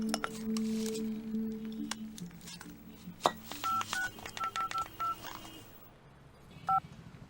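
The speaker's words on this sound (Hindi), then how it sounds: "लड़कों को फोन लगा।" Telephone keypad tones as a phone number is dialed in a Hindi-dubbed South Indian film, a quick series of short electronic beeps in uneven rhythm, clear and close over quiet background tones.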